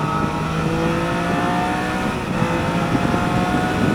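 Triumph Daytona 660 motorcycle engine pulling hard on an open road, a steady rising engine tone mixed with heavy wind rush, continuous and close.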